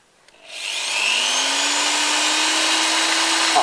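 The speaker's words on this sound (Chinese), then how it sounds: "你来钻孔" A drill bores a hole into a piece of wood, starting with a brief click and then spinning up into a steady, close whirring whine that holds level for several seconds.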